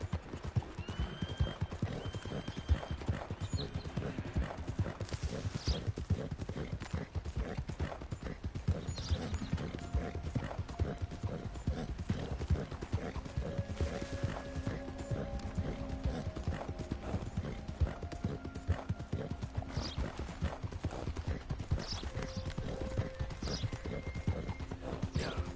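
Horse hooves clip-clop at a steady trotting rhythm in Red Dead Redemption 2, with a constant stream of close hoofbeats and faint game mechanism and tack sounds underneath.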